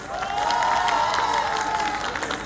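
Wedding guests at a sangeet function applaud and cheer for the engaged couple, a dense burst of clapping with shouts and whoops rising from a crowd.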